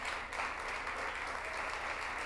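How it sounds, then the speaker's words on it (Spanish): Crowd clapping for a guest at a Mexican women's football event, a steady, even roar of many hands at moderate distance, continuous and unbroken throughout. "Un aplauso fuerte, por favor."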